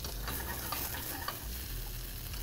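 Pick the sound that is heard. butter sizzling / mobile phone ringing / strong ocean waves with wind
butter sizzling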